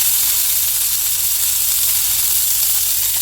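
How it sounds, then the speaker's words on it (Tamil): Onion and tomato sauté in a hot pan after garlic and curry leaves go in, giving a steady, close, even sizzle with no pauses and no voices. "வெங்காயம் தக்காளி போட்டு வதக்கணும்."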